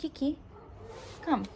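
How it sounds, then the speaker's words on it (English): Dogs bark and yip in the background of a home, giving a few short, sharp bursts while a person talks over them. "I apologize for the dogs barking in the background."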